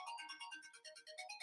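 A phone ringtone chirps in a quick, faint melodic pattern of rapid pulsing electronic notes, repeating rhythmically with no talk.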